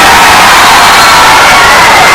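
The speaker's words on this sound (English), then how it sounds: "And the crowd goes wild." Crowd at a Faith Longhorns versus Gettysburg Battlers basketball game cheering wildly, a loud, dense and sustained roar of shouts and whoops that fills the whole moment without a break.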